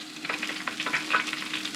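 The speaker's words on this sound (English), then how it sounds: "Look how it's sizzling. See? See that sizzle there?" Hot grease sizzles steadily in a pan while fish is fried for a blue crab and black drum meal, producing a loud, close, continuous crackle with no talking.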